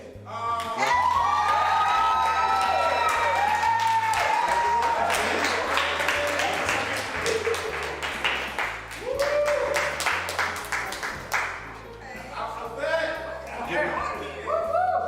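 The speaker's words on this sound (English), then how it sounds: "Now, please give a warm applause for our poet, Alpha-Bet." Open-mic audience applauds a poet with sustained clapping, whoops and cheering that run loud throughout, mixed with crowd noise and overlapping voices.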